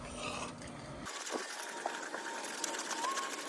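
A knife edge is drawn across a coarse whetstone, a close, gritty rasping and rubbing that repeats in short strokes, quiet but steady, with no talking.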